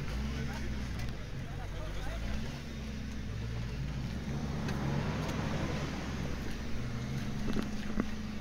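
A 4x4 off-road vehicle engine labors at an off-road trial while the wheels spin without traction, a rumbling low drone throughout. Someone talks over it.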